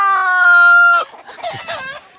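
Roosters crowing in an outdoor rooster run where fifteen roosters were just integrated: one loud, close, drawn-out cock-a-doodle-doo followed by shorter, broken crowing and clucking, with no talk.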